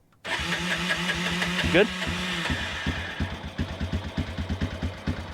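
A homemade mini 4x4's engine cranks and catches at the push of a start button, revving in a loud mechanical surge before settling into a rapid, pulsing idle close by, with brief talk over it.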